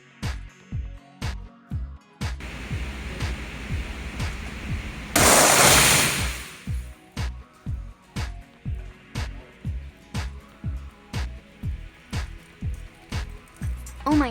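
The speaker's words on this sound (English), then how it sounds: "Glass splattered around, and balloons almost all popped." Tempered shower door glass bursts in a sudden loud, sustained shattering crash during a simulation test, surrounded by a steady series of sharp, rhythmic balloon pops before and after.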